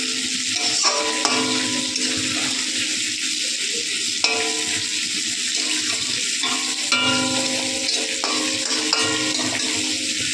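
Tilapia fish and taro stolons sizzle and fry in a pan over low heat, a steady close hiss punctuated by occasional clinks and scraping stirs.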